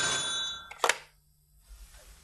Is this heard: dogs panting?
no